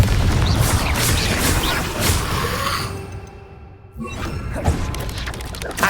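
Loud, dense blasting from the Confringo fire spell in Hogwarts Legacy: a sustained crashing roar that drops out for a moment and then bursts back in with heavy booms.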